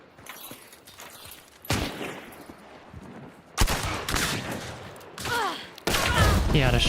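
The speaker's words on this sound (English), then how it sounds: "He had a shotgun." Shotgun blasts in a video game firefight, several loud, sharp reports spaced a second or two apart, with voices speaking between the shots.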